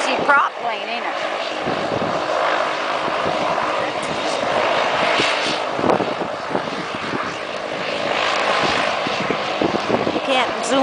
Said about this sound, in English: Noisy prop plane, ain't it?